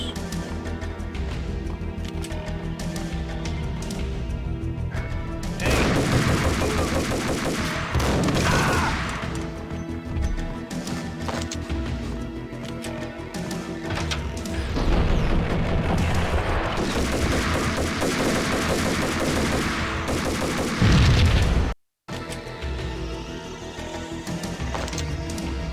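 Gunfire in the video game Max Payne arrives in several loud bursts of rapid shots over a tense backdrop, with crashes mixed in and a brief dropout near the end.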